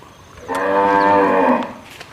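American Brahman cattle, a pure-blooded herd of pregnant cows, give a single loud, drawn-out moo close by, lasting about a second, with no talk.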